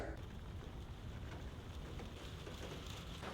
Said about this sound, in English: Suddenly, the rain starts pouring